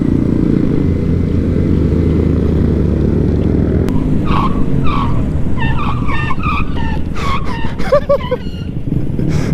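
Vehicles riding dirt trails and popping wheelies: a loud, steady engine roar up close, with higher revving chirps and whines breaking in over the last several seconds.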